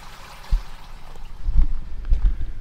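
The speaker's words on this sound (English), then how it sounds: "there's water running in that pipe, and this is just a drain pipe" Water from a leak running and gurgling inside a drain pipe in winter, low irregular sloshing thumps and trickles, close and moderately loud, with no talking.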